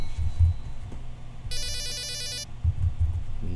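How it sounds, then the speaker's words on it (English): A telephone rings in a video game, one bright electronic ringing burst of about a second standing out over a low, busy game background with thumps and no talking. "Another phone call."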